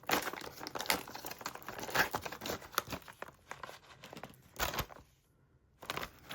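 Freeze-dried Mountain House meal pouches, about 25 years old, are torn open up close, giving crinkly, crackling bursts of foil-lined packaging with short pauses between them.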